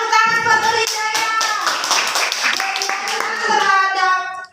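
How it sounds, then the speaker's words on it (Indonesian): A classroom audience claps for a student after a micro-teaching practice presentation, a dense burst of hand claps running about four seconds with voices chattering and calling out over it. "tepuk tangan buat Rizkyaya"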